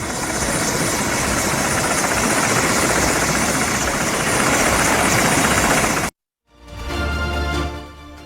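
A helicopter at a village wedding in Greater Noida roars loudly and steadily for about six seconds with dense rotor and engine noise, then cuts abruptly to silence before a different rumbling sound starts.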